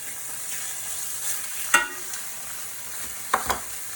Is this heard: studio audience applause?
no